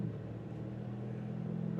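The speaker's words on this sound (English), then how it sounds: "Just hearing that engine, knowing that there's 700 plus horses under the hood" A 2025 Ford Raptor R pickup with over 700 horsepower rumbles in a steady, low, fairly faint drone, heard continuously without talk.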